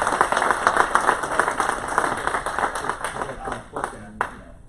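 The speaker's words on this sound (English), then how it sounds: "Let's give them a round of applause." An audience applauds panelists at the close of a 2019 panel, a steady wash of close, dense clapping that tapers slightly near the end, with a voice talking faintly underneath.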